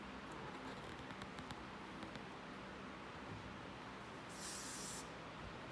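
Soft, continuous hissing of hairspray, with a brighter burst of aerosol near the end, heard fairly quiet against a low background.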